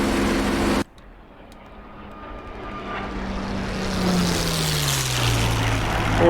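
A P-47 Thunderbolt fighter in a flight combat video game gives a loud, steady propeller engine drone that swells gradually after a sharp cut near the start, with the pitch sliding lower toward the end.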